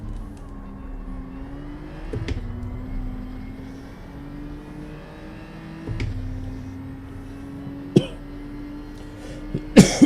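Several short coughs and throat-clearing bursts break over a steady engine hum from a racing game, some quick and scattered, a harsher cluster near the end, with no talk.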